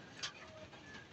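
A racing pigeon in a loft gives a soft low coo, faint against steady background hiss, with a brief higher chirp from another bird near the start.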